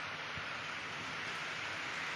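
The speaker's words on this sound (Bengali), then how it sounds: "এই বৃষ্টি মনে হয় না কমবে বলে মনে হচ্ছে" Steady rain falling outdoors, a soft, even hiss at moderate distance with no voices over it.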